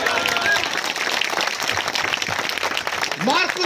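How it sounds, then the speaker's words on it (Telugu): A church congregation breaks into a burst of dense, lively applause, many hands clapping together close by, with voices calling out over it. "అందరూ చప్పట్లు కొడతాం."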